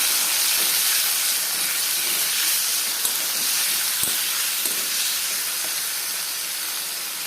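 Tomato pieces frying in a pan with turmeric and salt, a steady broad hiss of sizzling oil running unbroken throughout, close and fairly loud, with a few faint clicks.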